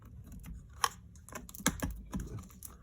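Typing on the keyboard of a 2015 MacBook Pro, right after a logic board swap: close, irregular key clicks and taps come one after another with a few sharper strikes, and no voice is heard.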